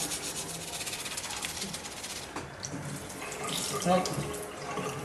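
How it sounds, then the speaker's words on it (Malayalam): Tap water runs steadily and close over clear plastic aligners as toothpaste is rinsed and brushed off them, a continuous hiss with soft scrubbing rubs throughout. "വെള്ളത്തിൻ്റെ അടിയിൽ പിടിച്ചതിന് ശേഷം കൃത്യമായി ആ പേസ്റ്റ് മുഴുവൻ പോകുവാൻ തക്കവണ്ണം നന്നായിട്ട്"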